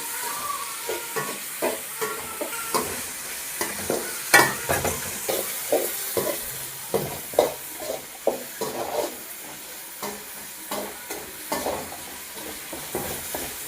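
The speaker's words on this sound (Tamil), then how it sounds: "தக்காளி போட்டுட்டு நல்லா வதக்கணும்" Onions and tomatoes sauté in a pan for a goat head curry, a steady close sizzle broken by frequent scraping stirs of a spoon against the pan.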